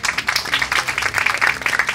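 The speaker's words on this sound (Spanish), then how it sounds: "lo recibimos con un fuerte aplauso" Dense applause from an audience at a commemorative gathering for the 60th anniversary of the yacht Granma's departure, a steady wash of many hands clapping that holds for the whole stretch.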